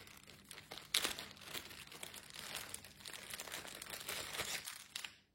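Packaging around a set of twenty wooden bookmarks with small pompoms is handled and opened, giving soft crinkling and rustling with a sharper crackle near the start, close and quiet.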